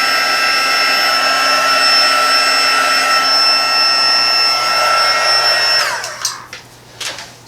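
Heat embossing tool blowing a loud, steady, close whoosh with a constant tonal hum while melting embossing powder on paper, then switching off abruptly, followed by a few light handling knocks.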